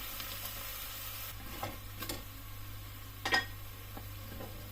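Vegetables for Ilocano pinakbet drop into a hot pan with pork belly, setting off a steady close sizzle punctuated by a few soft clatters as pieces land and are stirred.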